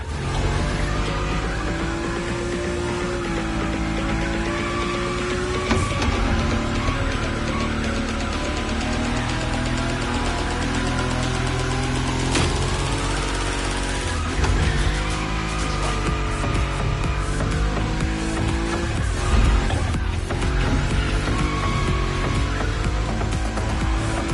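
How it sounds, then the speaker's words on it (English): A Nissan Nismo car in The Crew Motorfest drifts at high speed, with a loud, continuous engine roar, gear and pitch shifts, and sustained tire squeal and skidding running throughout, close up and with no talk. "Your Nismo is powerful enough to slide along on its own when you're at high speed"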